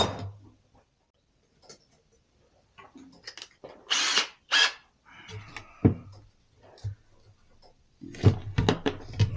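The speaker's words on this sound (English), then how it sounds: "I'm going to drill a few air holes in the bottom" A power drill bores air holes in a PVC nesting box for bluebirds and tree swallows, giving several short whirring bursts between pauses, with clunks and handling noises close by.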